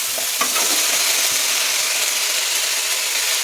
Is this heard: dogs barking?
no